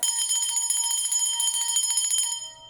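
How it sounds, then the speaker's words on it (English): A small metal bell rings alone, its bright ringing tone sustained with rapid repeated strikes before fading out at the end. "So I'm going to ring the bell"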